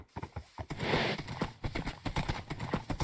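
Horse hooves clip-clop in modded Minecraft, a quick run of close, sharp knocking steps in uneven rhythm with a brief rushing swell in the middle.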